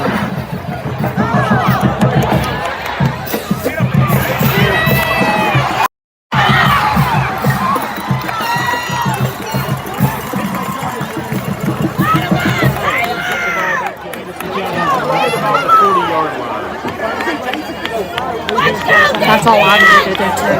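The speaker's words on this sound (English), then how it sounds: "Deafen the crowd down and just have the mic coming through." Loud crowd noise at a school sports game between the Anderson County Mavericks and Gibbs Eagles: continuous shouting, cheering and babble throughout, with a brief dropout near the middle.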